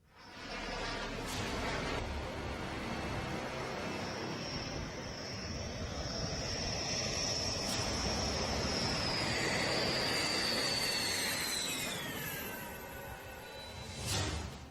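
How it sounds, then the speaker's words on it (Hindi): Indian Air Force Rafale fighter jets passing overhead, a sustained loud engine roar with a rising-then-falling whine and whooshing rush that fades toward the end. "भारत को मिले 3 और लड़ाकू रफाल विमान"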